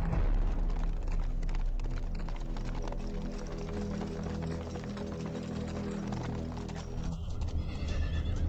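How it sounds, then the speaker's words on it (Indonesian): A ridden horse whinnies while its hooves clip-clop steadily over a continuous, dense backdrop of music and effects, with the neigh rising clearly near the end. "Ternyata aku bisa naik kuda."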